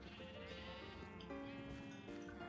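Faint sheep in a video game farm bleat several times in quick succession, wavering nasal calls overlapping against a soft background ambience.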